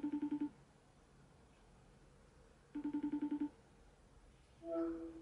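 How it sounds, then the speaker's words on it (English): A Snapchat call ringing out on a phone: two short bursts of repeated ringback tones separated by a couple of seconds of quiet, followed by a brief connecting chime at the end, with no voices. "Okay, it's ringing."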